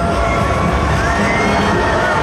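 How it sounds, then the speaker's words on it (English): A crowd cheers and shouts as a Norwegian Epic cruise ship barely fits under a bridge, a dense, loud, continuous roar of voices and whoops filling the whole moment. "And the crowd goes wild."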